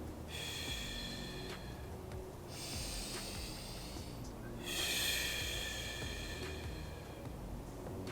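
Heavy, deliberate breathing in and out during a mobility exercise, with long noisy airy breaths alternating in a slow steady rhythm, close and fairly loud with no talking.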